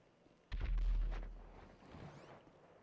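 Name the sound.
explosions in the video game GTA V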